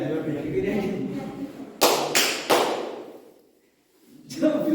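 People stand and clap during a warm-up game at a Toastmasters club meeting. After some talk come three sharp, loud group claps in quick succession, a short pause, then another clap.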